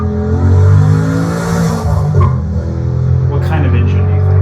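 A pushrod V8 car engine revs loudly and close, a deep throbbing rumble that rises and falls through several throttle blips, with people talking over it.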